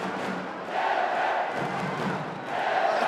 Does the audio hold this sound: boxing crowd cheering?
yes